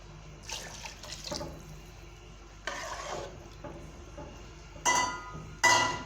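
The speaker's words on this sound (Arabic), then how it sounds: "اول ما تسبكت اهو ننزله بالميه" Water splashes and trickles in short bursts into a pot of simmering tomato sauce while cooking spinach, with clinking at the end, close by and no talking.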